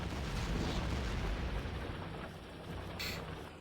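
Artillery cannons fire in Factorio, modded with Space Exploration and Krastorio 2: a heavy, continuous booming rumble, with a brief sharp crack near the end as the roar eases slightly.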